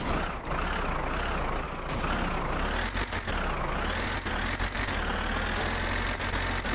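A sewage truck's engine in My Summer Car labors steadily in second gear, a loud, low droning rumble whose pitch rises and falls with the revs, with occasional clunks over it.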